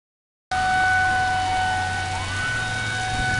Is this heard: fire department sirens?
yes